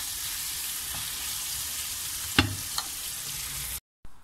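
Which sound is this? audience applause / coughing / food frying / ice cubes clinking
food frying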